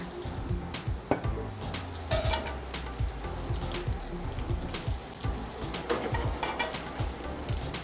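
Chicken frying in oil in a pan, a continuous close sizzle with irregular popping and crackling spatters throughout.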